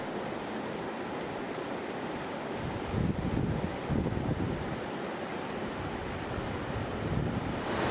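A river's flowing water gives a steady, dense rush with a brief swell in the middle, heard up close and alone, with some wind buffeting mixed in.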